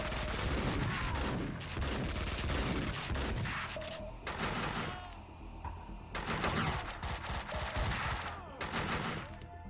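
AK rifle fire in the video game Max Payne rattles out in loud, dense automatic bursts, broken by short pauses between volleys, with no clear talking.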